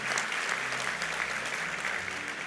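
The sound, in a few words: audience applause in church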